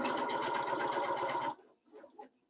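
A sewing machine stitching quilt fabric pieces runs in a steady, fast whir for about a second and a half, then stops, leaving a few faint handling sounds close by.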